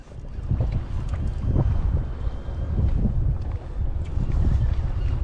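Strong wind buffets the microphone in a loud, continuous low rumble with gusty surges throughout, out on the Mediterranean in an inflatable boat while fishing.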